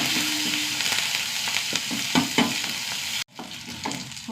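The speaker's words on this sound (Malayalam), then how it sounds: "കറിവേപ്പില, ഉള്ളിയൊന്ന് മൂട്ടി വെക്കാം." Onions and curry leaves fry loudly in a pan, a dense crackling sizzle with stirring scrapes that stops abruptly partway through, leaving a quieter, softer hiss.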